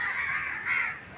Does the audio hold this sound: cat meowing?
no